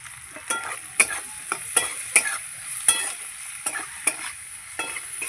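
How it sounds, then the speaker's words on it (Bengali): Potatoes fried with salt, sugar and spices in a pan, scraped and stirred at close range: a steady high sizzle broken by about eight sharp utensil scrapes and clinks at irregular intervals, with no talking. "আলুর সঙ্গে মশলাগুলো ভালো করে এইভাবে ভেজে নিয়েছি।"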